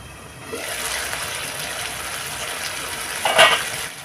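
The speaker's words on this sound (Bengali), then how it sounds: "চলো ঢাকাটা তুলে নেওয়া যাক।" Tomato achar simmering in a covered cooking pot lets off a steady, airy hiss, then a brief ringing metallic clatter rises near the end as the lid is lifted off.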